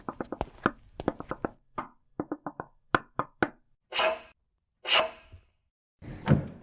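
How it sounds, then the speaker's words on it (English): Knocking on a door, a quick run of sharp close knocks in an irregular rhythm followed by a few louder, rougher thumps. "do the little knock."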